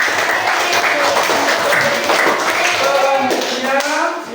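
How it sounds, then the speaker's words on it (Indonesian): A classroom of students applauds together after group presentations, steady broadband clapping sustained throughout at close range, with some voices mixed into the crowd noise. "Tepuk tangan untuk kita semua."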